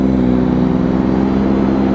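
Deep, steady engine drone from a Triumph Daytona 675 sport bike fitted with an aftermarket exhaust can, heard loud and close for a couple of seconds without speech.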